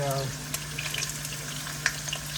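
Chicken thighs frying in a hot seasoned pan, a steady close sizzle with small crackles and a few sharper pops throughout.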